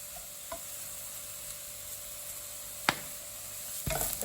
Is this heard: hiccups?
no